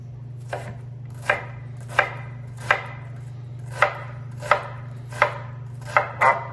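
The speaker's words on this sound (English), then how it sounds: "Is that the easiest diced onion you've ever seen?" A kitchen knife dices an onion on a cutting board: about ten crisp, evenly spaced chops over a steady low hum, with a quick double strike at the end and no talking.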